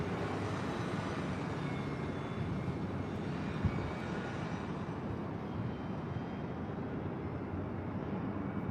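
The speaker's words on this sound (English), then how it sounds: "Also have on the Bon Airways Dreamliner, 787-8 Dreamliner, heading back to Tokyo Haneda, flight 125." A Boeing 787-8 Dreamliner jet roars steadily on departure from LAX, a broad continuous engine rumble that holds at constant loudness throughout with no voices.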